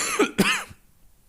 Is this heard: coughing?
yes